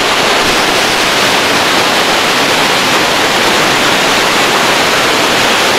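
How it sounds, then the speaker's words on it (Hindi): A mountain river on the Sonprayag to Kedarnath trek rushes loudly and steadily, a dense, constant roar that fills the whole clip. "पानी का शोर सुन के ही धड़कन तेज हो जाती है।"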